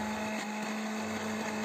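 A blender grinding sesame seeds whirs loudly and steadily, with a constant motor hum and a gritty buzz throughout. No voices are heard.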